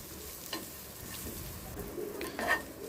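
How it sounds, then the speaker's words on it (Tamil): Chopped onion and capsicum frying lightly in a pan, a soft, low sizzle with a few gentle stirring scrapes and clinks, quiet and close. "அதே பேனில் நம்ம ஏற்கனவே கட் பண்ணி வச்சுருக்கிற வெங்காயம், குடமிளகா இருக்குல்லையே, அதையும் லைட்டாக ஃப்ரை பண்ணி எடுத்து வச்சுக்கோங்க"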